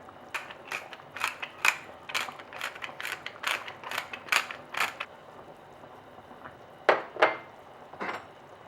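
A pepper grinder cranks out fresh pepper in a rapid series of close, crisp ratcheting grinds, about a dozen twists, then a short pause and three more, with no talking.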